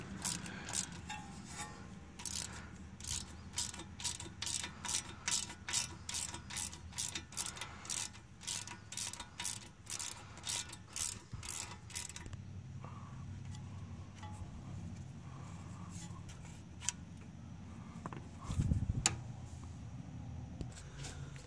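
A ratchet wrench with a 10 mm socket works the ABS bolts off a 2013-2015 Chevrolet Malibu LT 2.5L, a rapid run of close, crisp ratcheting clicks for about twelve seconds, then quieter workshop handling noises and a brief thump.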